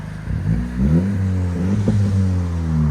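Honda Civic Si with a 1.5L engine and its rev limiter removed, revving hard up close: several loud rises and falls in pitch, with no voices.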